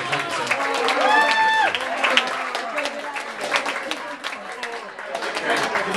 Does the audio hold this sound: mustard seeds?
no